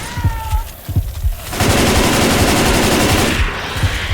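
Video game gunfire, with a few separate thuds and then a loud, sustained burst of rapid automatic fire close up that ends with a couple of lone shots.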